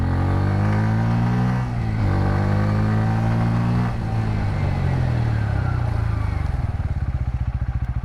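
A Bajaj Pulsar N160 slows from 60 under rear braking, the engine note stepping down through falling tones and settling into a low, uneven idle thrum, close and loud with no voices.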